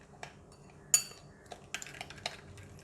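A spoon mixes chopped shallots, spring onion and cilantro into Thai nam jim jaew, a sour, spicy sauce, giving a few sharp clinks and scrapes against the bowl with quiet pauses between them.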